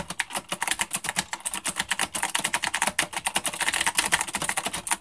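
Rapid, clicky keystrokes on a Corsair Strafe RGB mechanical keyboard with Cherry MX Blue switches, a steady, dense clatter like a typewriter, close and crisp with no voices.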